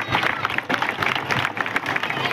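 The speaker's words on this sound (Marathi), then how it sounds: "तर जोरदार टाळ्या स्वतःसाठी घ्यायला पाहिजे." A crowd at a Chhatrapati Shivaji Maharaj birth anniversary celebration in a village applauds loudly, a dense, sustained burst of clapping with some crowd murmur mixed in.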